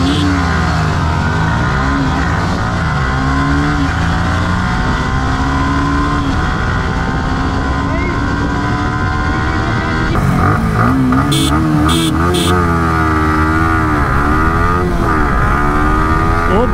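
Yamaha R15 motorcycles, a BS6 and a BS4 V3, accelerate hard in a long road race. Loud, close engine roars climb through the gears with repeated rising pitch sweeps and shifts.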